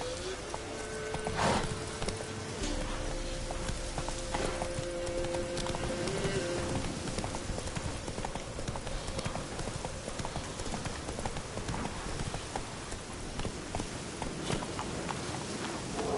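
Rapid, rhythmic clip-clop of a horse's hooves galloping in The Witcher 3, a steady drumming that runs the whole time with no speech.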